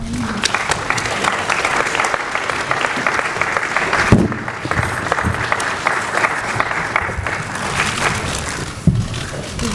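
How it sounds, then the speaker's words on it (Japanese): A seated audience at a Japanese press event claps to send off former Japan national football team manager Vahid Halilhodžić: sustained, even applause from many people, loud and continuous throughout. "最後拍手でお送りしたいと思います。"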